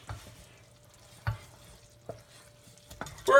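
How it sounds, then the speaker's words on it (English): A spoon stirring a boiling German chocolate oatmeal cookie mixture in a pot, a few faint scrapes and taps against the pot over a quiet bubbling background. "So stir and stir and stir and stir"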